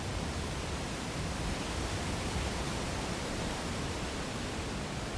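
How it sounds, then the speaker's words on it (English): Steady, loud rushing of a triple waterfall in the fantasy game world of Ragnarok, a dense broadband roar that holds constant throughout with no voices over it. "A triple waterfall."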